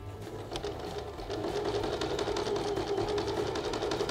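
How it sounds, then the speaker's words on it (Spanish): A sewing machine runs steadily close by, stitching a V-neck side seam in a rapid, even mechanical whir that picks up slightly partway through, with no voices. "Acá alineamos con un alfiler para sostener y cosemos este otro costado."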